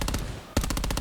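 Rapid automatic gunfire from a video game, a steady burst of shots with a brief lull, then a heavy booming shot and more rapid fire.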